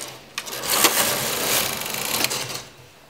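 Domestic knitting machine carriage drawn across the needle bed to knit two rows of a spikelet pattern, giving a steady mechanical whirring and clattering with a few sharp clicks, close and continuous throughout.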